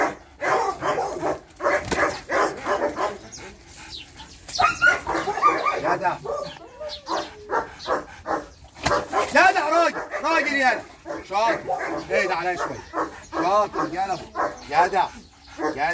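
A dog on a farm barks repeatedly and whimpers, with short yips scattered through the stretch, while people talk loudly over and between the barks.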